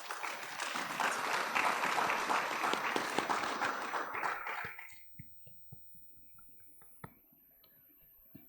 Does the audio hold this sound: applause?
yes